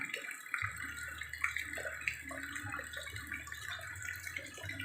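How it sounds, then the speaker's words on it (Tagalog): Strong, steady rush of water flowing in a drainage canal after days of rain, broad and continuous, with churning splashes throughout and a low rumble underneath; no voices. "malakas ang tubig sa kanal"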